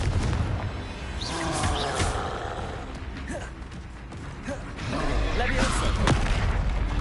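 Confringo blasting spells explode during a Hogwarts Legacy fight: booming, crackling bursts and creaking impacts rise and fall in swells over busy game noise, with a voice heard in the mix.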